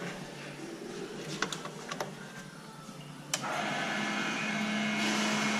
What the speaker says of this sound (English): I'll stick the pump on.